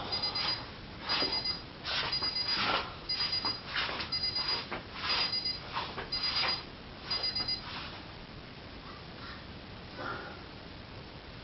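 A kitchen alarm beeps in quick, regular clusters, fairly faint and thin, repeating for several seconds before falling quiet.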